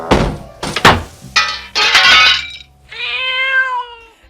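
Black cat meowing in a 1981 comedy horror film: a few sharp thuds and a crash come first, then a long, clear, drawn-out meow up close that rises and falls, with no speech.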